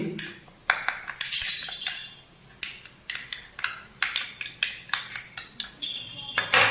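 Clams being stirred in a pan with pepper, turmeric and garam masala, a metal spoon scraping and clinking against the pan in repeated close strokes, with no talking.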